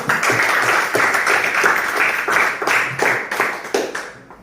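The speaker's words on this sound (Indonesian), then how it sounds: "kita berikan aplaus untuk kita" A classroom of students applauds together, with dense, fairly loud clapping that carries on steadily and then stops abruptly at the end.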